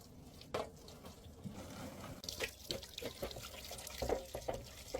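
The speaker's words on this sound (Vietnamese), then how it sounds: "Sogra bắt đầu làm sạch số cá." Tap water runs and splashes into a basin while river fish are being cleaned, with uneven pours and drips alongside small clatters of handling, near and fairly quiet.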